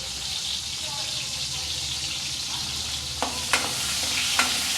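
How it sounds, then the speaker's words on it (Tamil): Onions sautéing in a pan for a horse gram tamarind kuzhambu give a steady close sizzle. Stirring sounds run underneath, and a few sharp utensil knocks come near the end. "வெங்காயத்தை நல்லா வதக்கணும் கருவேப்பிலை சேர்த்துக்கலாம்"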